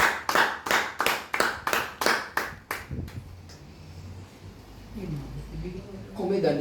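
Rhythmic applause from a church congregation clapping together in steady unison beats for about three seconds, then fading into a murmuring room with a voice starting to speak toward the end.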